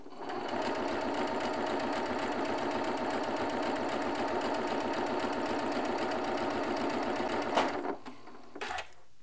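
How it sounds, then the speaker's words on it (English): A sewing machine stitches quilt pieces in a fast, even, continuous whir for about seven seconds, then stops with a couple of clicks and a brief short burst. "we're going to butt that right up against the needle and we're going to stitch"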